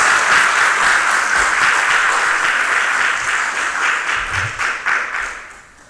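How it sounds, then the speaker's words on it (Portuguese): Church congregation applauding during a worship service, a dense, loud wash of clapping that holds steady and then thins and fades toward the end. "Vamos aplaudir mais forte para Jesus, por gentileza, gente."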